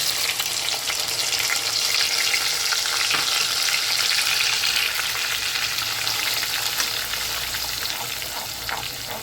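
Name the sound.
onion and green chili paste frying in oil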